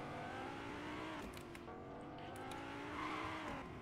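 Fast cars race around a track in a video game, a continuous high engine drone with shifting pitch and brief tire-squeal accents, fairly quiet and steady throughout.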